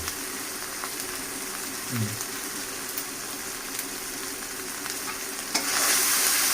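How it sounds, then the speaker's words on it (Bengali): Masala frying with bay leaf in a pot for goat head curry, a steady crackling sizzle with occasional stirring scrapes, rising to a louder hiss near the end. "তেজপাতাটা দিলাম দিয়ে এবার মশলাটা কষাচ্ছি"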